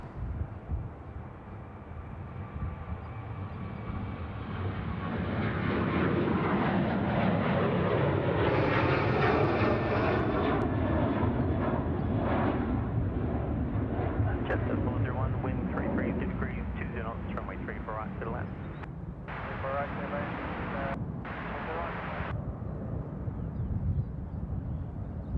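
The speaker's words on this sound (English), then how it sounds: "Qantas 409 to Melbourne, 738 rolling, runway 34 right." Qantas Boeing 737-800 taking off from a Sydney Airport runway, a loud sustained jet engine roar building and holding over the whole span, with people talking over it and an air traffic radio call.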